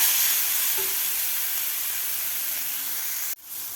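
Potato thecha sautéing in a pan over medium heat, a steady broad sizzling hiss that runs evenly and close, then cuts out abruptly near the end before returning faintly.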